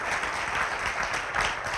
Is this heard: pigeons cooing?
no